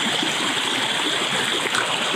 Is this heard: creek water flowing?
yes